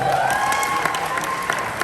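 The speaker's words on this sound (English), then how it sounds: "them a big round of applause, please, guys" Applause and cheering from a crowd at a chamber of commerce event, dense steady clapping with whoops rising over it, close and fairly loud throughout the short burst.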